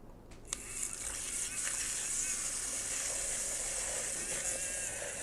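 Steady stirring of a water and egg yolk mixture, a continuous wet swishing hiss with faint clinks, close and even throughout.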